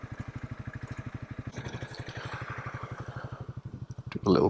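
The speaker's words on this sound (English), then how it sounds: "I'm also going to leave the engine running." A small motorcycle engine idles nearby with a steady, rapid low putter, then rises into a brief louder rush at the end.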